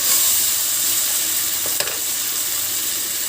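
Diced tomatoes and a spoonful of tomato paste sizzling in a pan, a steady close frying hiss with one brief stir or clink partway through.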